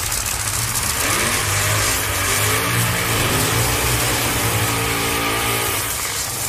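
A Legends Nostalgia nitro funny car engine revs at a drag race qualifying round, a loud, continuous, harsh roar that swells and holds without a break.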